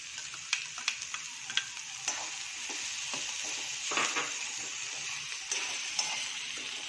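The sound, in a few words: cabbage and potato frying in oil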